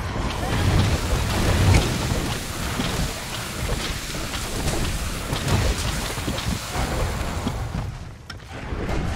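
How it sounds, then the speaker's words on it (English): Thunder and lightning strikes in the Monster Hunter World video game, a sustained loud rumbling crackle with heavy low-end roar, steady throughout and fading near the end. "Lightning bolt."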